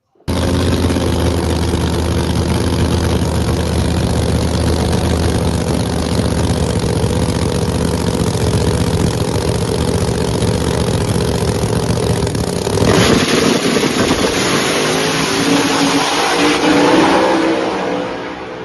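Studebaker drag car at a no-prep race, its engine holding a loud, raspy rev for a long stretch before shifting into a harsher, rising roar; continuous and close, with no talking.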